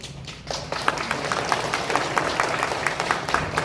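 An audience at a county town-hall meeting in Cheongyang, South Korea, claps in a brisk, scattered patter of applause, moderately loud, with no voices over it.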